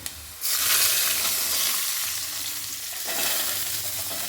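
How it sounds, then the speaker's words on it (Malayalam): Onion frying in a pan, a loud hissing sizzle that flares up suddenly as it goes in, eases off, then swells again around the three-second mark, heard close up with no talking. "ഇനി ആ ഉള്ളി എടുത്തിട്ട് ഇത് ഇതെല്ലാം കൂടെ ഇട്ട് കൊടുക്കാം"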